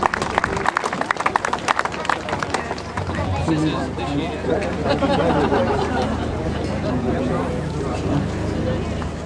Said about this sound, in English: The ribbon has just been cut, so big round of applause